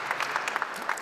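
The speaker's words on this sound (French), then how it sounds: "On peut les applaudir bien fort" Audience applauding at an alumni event, a brief burst of many hands clapping at once, loud and close with no voices.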